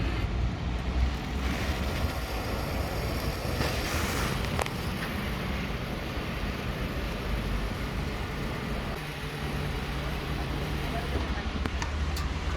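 LPG gas escaping from the filler of a camper conversion gives a steady, broad rushing hiss that runs unbroken at an even level from start to finish, close and fairly loud.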